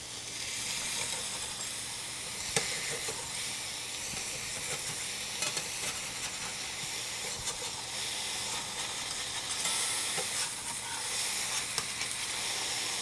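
Goulash meat sizzling loudly in a hot pan while being scraped off the surface, a dense continuous frying hiss with occasional scraping clicks throughout.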